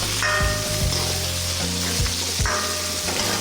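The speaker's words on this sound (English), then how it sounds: "on this above medium heat, cook that until the onions soften, probably about 4 to 5 minutes" Onions, chili, garlic, cinnamon and cardamom fry in a pan over above-medium heat with a steady close sizzle, and a spoon stirs in repeated scraping strokes through the whole stretch.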